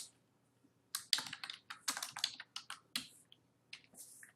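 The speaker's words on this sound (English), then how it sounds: "I can type in a memo." Crisp, close keyboard typing as a memo is entered, a rapid run of distinct key clicks over about three seconds, starting from near silence and ending in a few scattered taps.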